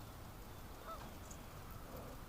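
Canada geese on the water give faint, distant honks, a couple of brief calls over a steady outdoor hush.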